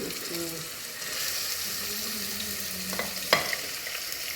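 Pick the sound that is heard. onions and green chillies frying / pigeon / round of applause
onions and green chillies frying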